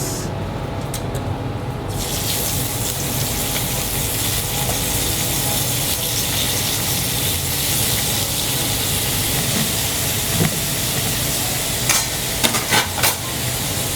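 Beef searing hard over high heat in a pan, a steady loud sizzle and crackle running the whole time, close up, with a few sharper pops and spatters near the end.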